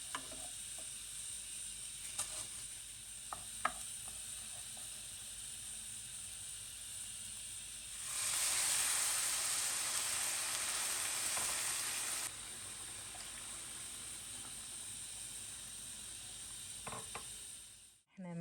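Washed rice hitting a hot pot bursts into a loud, steady sizzle partway through, lasting a few seconds before easing back to a quieter background hiss, with a few light clinks before it.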